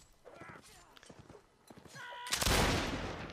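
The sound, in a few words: pistol fire in the video game Mount & Blade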